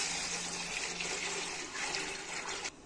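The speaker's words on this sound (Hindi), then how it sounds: "लस्सी डाल रही हूँ।" Lassi poured into a cooking pot for kadhi, a continuous soft watery splashing stream that stops abruptly near the end, fairly quiet and without talk.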